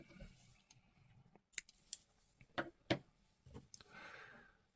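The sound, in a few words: scissors cutting yarn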